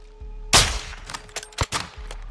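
A single loud sniper rifle shot cracks out in Call of Duty Modern Warfare 2, followed by a few sharper reports and impacts fading into quiet ambience.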